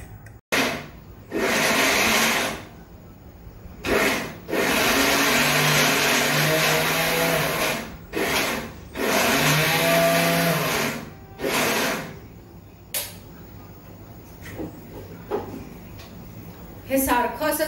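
A mixer grinder blends green mango sauce in loud whirring bursts of a few seconds each, stopping and starting repeatedly, followed by quieter clinks and a voice talking.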